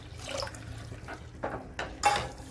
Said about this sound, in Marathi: ताकाच्या डब्याला थोडं विसळून टाकू